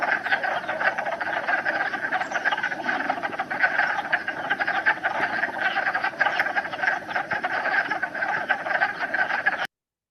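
Male wood frogs call from a vernal pool in a dense, steady chorus of ratcheting, duck-like quacks, many overlapping voices close by and loud throughout, ending abruptly.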